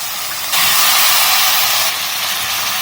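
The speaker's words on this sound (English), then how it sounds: "At this stage, I'll be adding in the chopped brinjal." Chopped brinjal drops into a hot pan of soft, mushy cooked tomatoes, setting off a sudden loud, close sizzling hiss that holds steady for a couple of seconds, with no talk.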